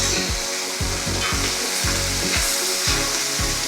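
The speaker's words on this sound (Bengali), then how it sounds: "কেটে রাখা শাক ও ছোট ছোট করে কেটে রাখা বেগুনগুলো আমরা কড়ার মধ্যে দিয়ে দিই, দিয়ে ভালো করে নেড়ে চেড়ে নিচ্ছি" Red spinach and chopped eggplant fry in a wok, a steady loud sizzle broken by regular scraping stirs about once a second, with no voices.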